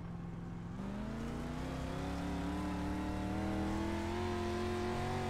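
The engine of a dirt street stock race car in iRacing drones loudly and steadily, its pitch rising slowly as it holds one gear under load, with no gear changes and no talking.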